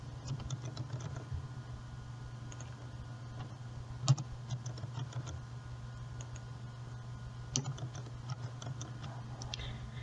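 Sparse, light clicks of keys tapped on a computer keyboard, a few isolated strokes over a steady low electrical hum, no voices.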